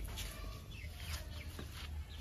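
Soft, steady clucking of backyard chickens in the rain, under a constant background hiss, with a few short squawks scattered through.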